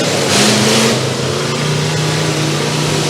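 A race car with a failing transmission at a county fair track, its engine droning steadily and loud with a grinding, whining tone.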